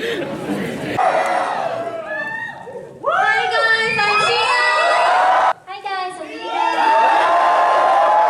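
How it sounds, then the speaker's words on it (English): Crowd at a K-pop KCON 2023 concert screaming loudly at a music video on screen, sustained high-pitched shrieks and cheers from many young women filling the space, with brief dips between bursts. "everyone started screaming like crazy"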